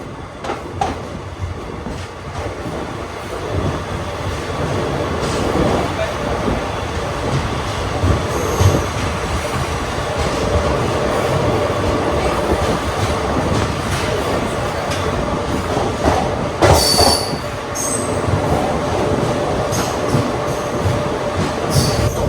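The SMVT Bengaluru–Murdeshwar Express runs on the rails with a loud, continuous rumble of wheels and carriages, joined by shrill wheel squeals and rattles partway through.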